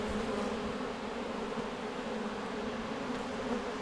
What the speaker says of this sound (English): There's a lot of yellow bees in there.